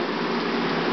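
Steady rain falling outdoors, a dense even hiss with no breaks and no voices.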